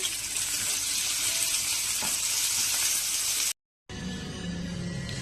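Boiled potato filling tossed and stirred with a little mustard oil in a pan, giving a steady, close hiss of frying with faint scraping throughout before a brief cut.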